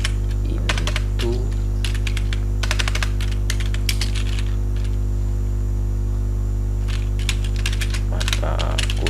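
Rapid bursts of clicking keystrokes on a computer keyboard, typed in quick clusters with short pauses between, close and clear over a steady electrical mains hum.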